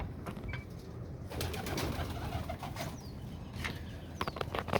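Pigeons cooing softly and repeatedly in a coop where some sit on eggs, over a low background hum, with occasional faint clicks and rustles.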